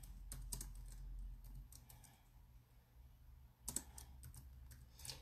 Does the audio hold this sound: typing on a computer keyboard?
yes